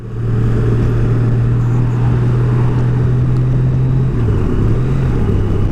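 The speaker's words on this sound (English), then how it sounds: "The engine noise is a little deeper." A 2019 Honda Gold Wing motorcycle engine hums steadily at cruising speed on a long road run, a loud, deep low drone that dips slightly in pitch near the end, with no talk.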